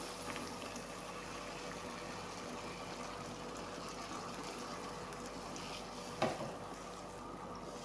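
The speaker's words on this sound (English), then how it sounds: "you cover it and leave it to boil until it reduces, until the tomato water reduces" Blended tomato sauce boiling in a pot, a soft steady bubbling simmer heard up close and fairly quiet, with one brief clink near the end.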